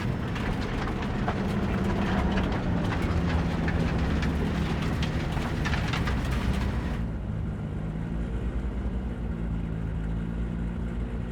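A train rolling along in the Cyberpunk 2077 game, a steady dense rumble and clatter that stays loud and continuous, shifting to a darker, duller roar partway through with no talking over it.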